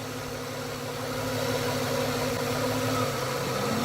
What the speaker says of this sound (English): And all of a sudden you hear the fan kick in. And we now see the compressor kick in.